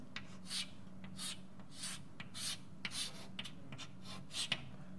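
Pen or marker strokes drawing a piston-and-cylinder pressure gauge diagram, a rhythmic series of short scratchy rubbing strokes, close and fairly quiet, with no speech.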